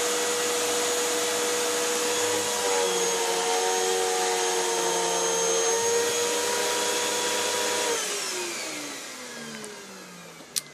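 A vacuum cleaner runs continuously with a loud, steady whine, its pitch sliding slightly before the motor tapers off near the end, followed by a single sharp click.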